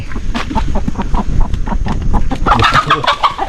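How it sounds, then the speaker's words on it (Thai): Chickens cluck in short repeated bursts, close by, with a brighter run of clucking near the end over a busy, rustling background. "โอ้มีไก่เข้าไป"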